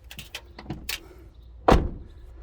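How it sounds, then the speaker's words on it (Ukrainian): The door of a 2018 Renault Master L3H2 cargo van with a tail lift shuts with one solid, close thud after some light handling clicks and rattles. No one speaks. "Двері закриваються як в холодильнику."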